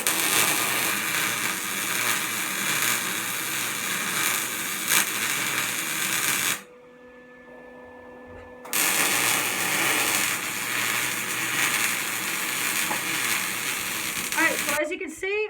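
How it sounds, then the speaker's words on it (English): Welding corner pads onto a Certiflat welding table: a loud, steady sizzling crackle of the arc runs in two long passes, separated by a short quiet pause with a faint hum, before another brief burst. "We're going to get them tacked in, and then we're going to get them welded."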